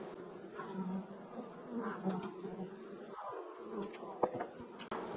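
Honey bees buzz steadily around thriving hives in a Northern Michigan apiary while supers are added, a dense, continuous drone with a few louder individual bees passing close by.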